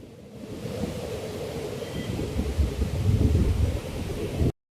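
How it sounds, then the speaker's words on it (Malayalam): A waterfall pours in the Manjappara hills, a steady low rushing roar of falling water that builds gradually and stays constant, heard without any talk. "ഈ വെള്ളച്ചാട്ടം കണ്ടോ മുകളിൽ നിന്ന് താഴോട്ട് കാണാനാ ഭംഗി"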